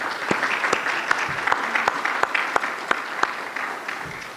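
A conference audience applauds for an organizer and her team, a steady wash of many hands with a few sharper individual claps standing out, fairly close and with no talking over it.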